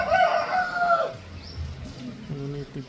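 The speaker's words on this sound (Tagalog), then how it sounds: "yung native chicken natin." Native chickens outdoors on a farm, with a rooster crowing once near the start and faint clucking after it, all fairly quiet.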